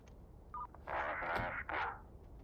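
A telephone rings in the video game HellMart, set in a supermarket at night: a short tone followed by two longer electronic ringing bursts, fairly faint and clear, with no talking.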